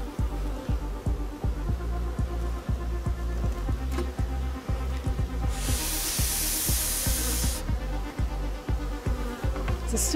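Yellow jackets buzz steadily around their hive at close range, a dense droning hum with rapid pulsing, joined briefly by a loud hiss partway through; no talk.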